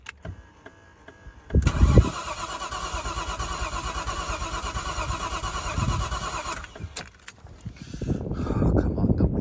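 A Nissan R33 Skyline engine with a suspected fault cranks over on the starter during a compression test, making a steady, rhythmic churning for about five seconds before stopping. Brief clatter and handling noises follow.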